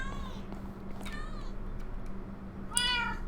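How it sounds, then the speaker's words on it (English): Several cats meow in a Minecraft game, a few overlapping drawn-out meows early on and a louder, closer one near the end over a low steady hum. "They all meow."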